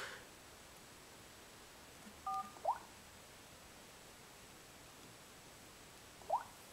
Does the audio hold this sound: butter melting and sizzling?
no